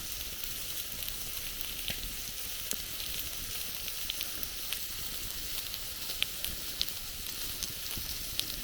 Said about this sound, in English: Still sizzling on the rock